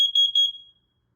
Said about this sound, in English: Testing smoke. Testing carbon monoxide.